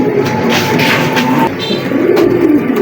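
A pair of black checker pigeons cooing in soft, low repeated calls, close by, over a busy background of rustling and faint bird noise.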